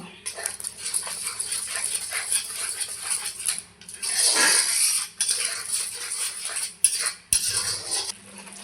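Ground spices and Kashmiri red chilli powder stirred and fried in a pan for a koi fish curry with nut paste, a steady sizzle with scraping spoon strokes against the pan and occasional louder clinks; a dog whimpers briefly.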